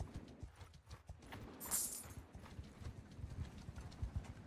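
A horse's hooves clip-clop steadily in Mount & Blade 2: Bannerlord, a continuous rhythmic patter of soft thuds close by, with a brief hiss partway through.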